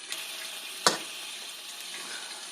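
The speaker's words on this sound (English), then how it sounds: "Then I'll add 2 cups of water." Water goes into a hot pan of chopped spring onions for soup, giving a quick hissing splash and then a steady, faint sizzle and bubbling, close by with no talk.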